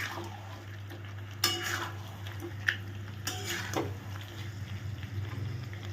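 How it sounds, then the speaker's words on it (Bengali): Cauliflower florets are sautéed in oil without water for a cauliflower rezala in a home kitchen, with a quiet sizzle under occasional clinks and scrapes of a spoon against the pan. "এই ফুলকপিগুলো দিয়ে ভালো করে কষিয়ে নেবো"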